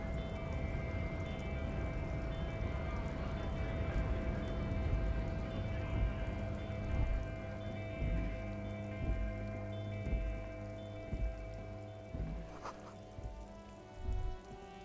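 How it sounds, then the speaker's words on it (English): Steady rain falling in the video game Disco Elysium, a continuous soft patter of drops on surfaces that fills the whole scene at moderate volume, with a faint tonal drone underneath. "All around you, rain falls on the spring thaw"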